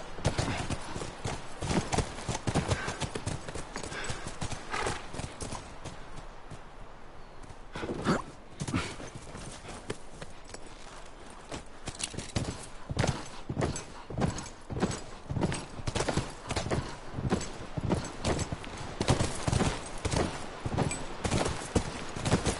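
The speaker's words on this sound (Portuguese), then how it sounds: "Vamos, de volta aos cavalos." Horses' hooves clip-clop steadily in The Last of Us, a dense, rhythmic run of close hoofbeats that eases briefly before picking up again at a regular walking pace.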